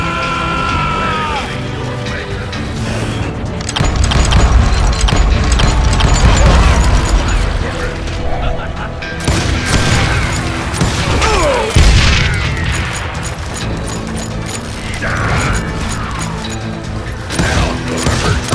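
Gunfire and explosions in the Western shooter game Call of Juarez Gunslinger, a loud continuous barrage of booming blasts and crashing impacts with dense rattling shots throughout.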